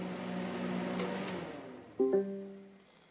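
Sharp 1.1 cubic foot smart microwave oven starting a popcorn cycle: a short electronic voice-assistant tone, then a beep and the steady hum of the oven running, quiet and close.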